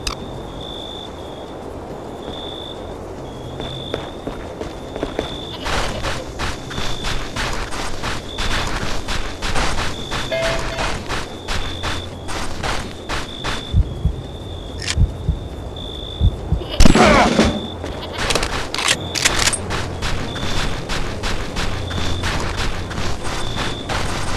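Rapid bursts of gunfire and booming explosions from the Desert Storm 2 video game, dense crackling shots over a steady high-pitched tone and low rumble, with a heavy blast midway.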